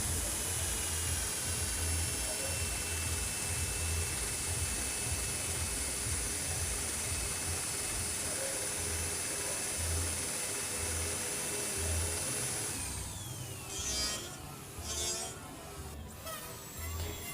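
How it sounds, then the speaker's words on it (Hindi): A drill machine fitted with a carving bit whines steadily at high pitch for a long stretch while cutting a small flower design into wood, then the tone drops and breaks into short grinding bursts near the end. "एक और मेरे पास बीट है जो ड्रिल मशीन में मैं फिट कर चुका हूँ। इसको चलाएंगे।"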